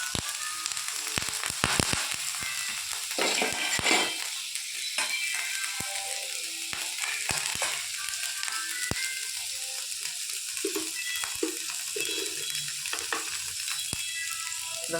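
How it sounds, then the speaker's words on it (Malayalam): Sliced onions sizzle and crackle steadily in hot coconut oil in a pan, a dense continuous frying hiss with scattered sharper pops and occasional stirring clinks, close and moderately loud, with no voices. "വെളിച്ചെണ്ണ ചൂടായിട്ട് സവോള ഇട്ട് കൊടുക്കുന്നുണ്ട്."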